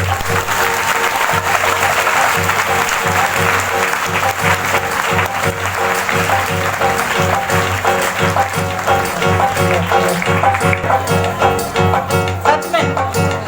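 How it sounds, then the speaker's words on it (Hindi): A congregation at a Sunday healing meeting claps along loudly and continuously, and a rhythmic beat and music play under the applause, with some voices mixed in. "ताली बजाएंगे सब लोग।"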